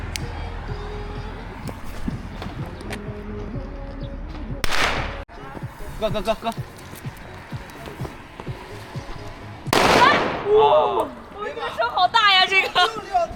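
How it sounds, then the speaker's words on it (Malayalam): Two loud firecracker blasts crackle out a few seconds apart over outdoor crowd chatter and background noise at a Chinese New Year village celebration in China. "പടക്കം പൊട്ടിക്കാൻ പോവാണ്"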